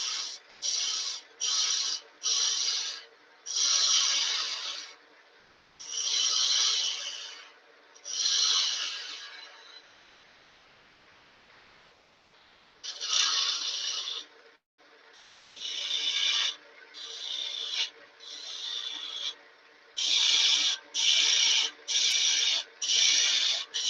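A gouge cuts wood spinning on a lathe while small farm-animal toys are turned, producing repeated rasping bursts of varied length separated by short pauses and one longer quiet gap.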